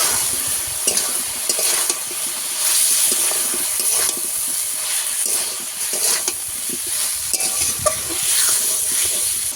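Ground spices—turmeric, chilli, cumin and coriander powder—sautéing in a pan for a spinach dish, a steady close sizzle with repeated scraping strokes of a spatula throughout, no talking.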